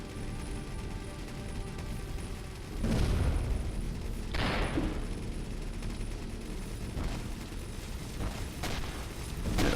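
Rockets fired in the space game Avorion: several deep whooshing blasts and booms rise out of a steady low hum, spaced a couple of seconds apart and moderately loud.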